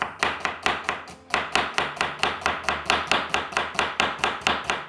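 A knife chops through an onion on a cutting board in a quick, steady run of about twenty crisp, close, evenly spaced strikes, with one brief pause near the start.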